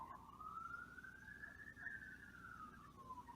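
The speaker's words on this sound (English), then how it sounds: "Police car driving by." A police car siren wails in a single rising and falling sweep as it drives past, steady and fairly loud over low street rumble, with no talk.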